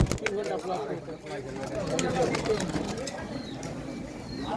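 Pigeons coo at a busy pigeon market in Adamdighi, with soft repeated cooing faintly heard under nearby people talking and general market noise.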